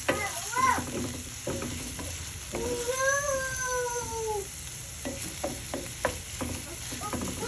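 Seasoned eggs sauté in a cast iron skillet with a soft, steady sizzle, broken by occasional utensil clinks and a brief wavering high cry, like a cat or child, rising over the cooking midway.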